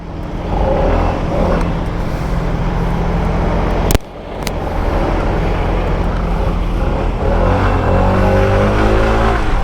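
A SYM ADX 125 scooter engine accelerates on a road in Greece, revving steadily and close, with a brief drop in sound midway before the engine drone resumes and climbs.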